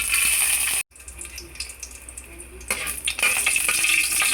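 Garlic frying in a little cooking oil in a pan, a loud, steady sizzle with a brief gap and scraping stirs, for a mussel and water spinach dish.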